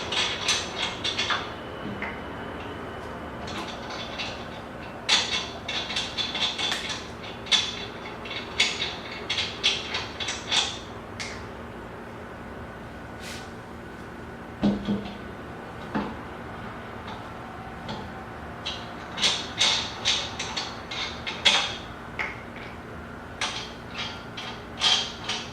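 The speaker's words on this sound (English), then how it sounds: "Next you just want to take off all your lug nuts. They all should come off by hand now because you broke them loose." Lug nuts being spun off a car wheel by hand during a wheel change, giving soft, irregular metallic clicks and rattles of nuts turning and being set down, fairly quiet against a steady low background hum.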